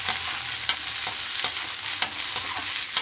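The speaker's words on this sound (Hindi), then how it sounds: "थोड़ा सा मटर डाल दूँगी इसके साथ, प्याज के साथ ब्राउन हो जाएगा।" Onions and peas frying in a pan, with a steady broadband sizzle and regular sharp scrapes and taps of a spoon stirring against the metal, close and fairly loud, no voices.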